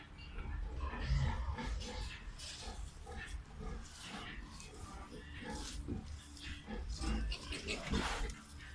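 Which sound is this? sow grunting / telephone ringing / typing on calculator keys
sow grunting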